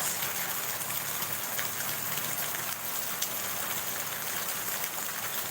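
Steady rain falls on a rainy morning, a dense, even hiss of drops hitting surfaces with no break or change in intensity, heard alone without voices.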